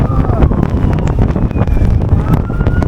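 Strong gusts of wind buffet the microphone on an ice-covered main street on a snow day in Portland, a loud continuous rushing roar with faint traffic rumble beneath.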